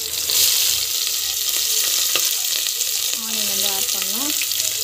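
Onions fry and are stirred in a pan while jackfruit biryani is being made, giving a steady, close sizzle with scraping stir sounds, and a voice speaks briefly over it near the end.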